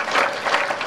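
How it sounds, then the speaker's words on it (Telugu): A short burst of clapping from a village audience at a felicitation ceremony during a Ram temple consecration event, brief and moderately loud. "చప్పట్లు."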